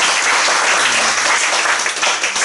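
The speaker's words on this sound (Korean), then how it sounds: "자, 우리 하나님께 감사의 박수로 시작하겠습니다." A church congregation breaks into thankful applause at the start of a testimony service, loud dense clapping throughout the short stretch, close and continuous with no voices.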